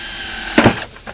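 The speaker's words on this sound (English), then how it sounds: "I'm loving this drill, y'all. Y'all know I'm just making holes." A power drill whirs at high speed as it bores drainage holes into a Home Depot 5-gallon plastic bucket, running close and loud for under a second before cutting off, followed by a couple of light knocks.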